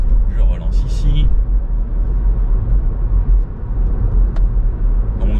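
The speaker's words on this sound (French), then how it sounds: "je remonte mon régulateur, je laisse la voiture rouler toute seule" A car climbs a hill on cruise control with a low, steady road and engine rumble throughout, while a person talks over it.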